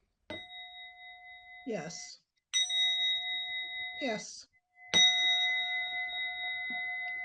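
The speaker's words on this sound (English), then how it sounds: "Shall we try the gong again?" A meditation gong is struck three times, each hit blooming into a long, shimmering ring that sustains and overlaps the next, while a voice speaks briefly between strikes.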